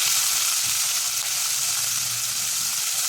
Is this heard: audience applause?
no